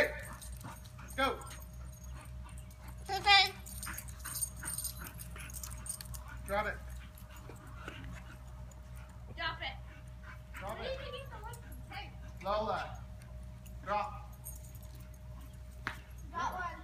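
Several dogs outdoors bark, yip and whimper in scattered bursts with keys jangling now and then, while people talk over them the whole time.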